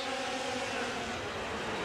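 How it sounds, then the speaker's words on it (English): Race car engines at a 1989 street meet rev while waiting for a restart, making a steady, dense, fairly distant roar that holds level throughout. "Open up the engines roar as they wait for a restart."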